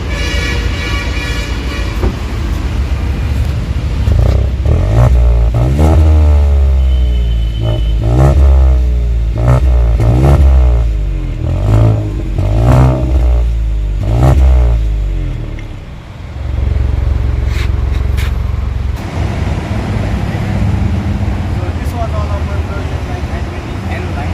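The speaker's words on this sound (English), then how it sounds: "Now let's hear the exhaust of this car." A Hyundai i20 N-line's exhaust revs repeatedly, rising and falling in pitch through several throttle blips, then settles back to a steady low idle.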